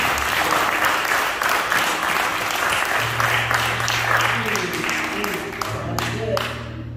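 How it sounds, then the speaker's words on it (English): A church congregation claps for Joseph again in a sustained round of applause that stays full and steady, while a low held musical tone enters midway and the clapping thins slightly toward the end. "Clap our hands for Joseph one more time."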